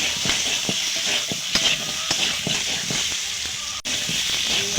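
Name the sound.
spices with turmeric being stir-fried in a pan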